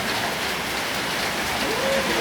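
Heavy rain pours steadily in a dense, continuous hiss, loud and close, with no other sounds standing out.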